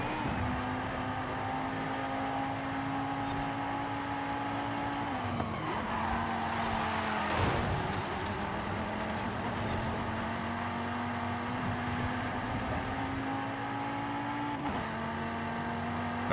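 A car engine races in Forza Horizon 5, holding a loud, steady high-revving drone with brief dips at gear changes, continuous and close throughout.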